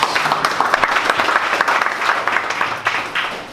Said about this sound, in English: So can you guys stand up and give Abu a round of applause?